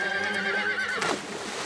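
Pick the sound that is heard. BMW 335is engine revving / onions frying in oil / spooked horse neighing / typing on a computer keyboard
spooked horse neighing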